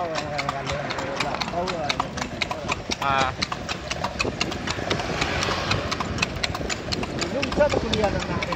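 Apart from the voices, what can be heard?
horse-drawn bendi cart, hooves clip-clopping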